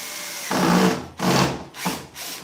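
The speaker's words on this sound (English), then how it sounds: "I'm actually just taking a little small screw and I'm screwing through the actual plywood" A drill drives a small screw through plywood while building a savannah monitor enclosure, three short close bursts of motor whine with brief pauses between, no talk.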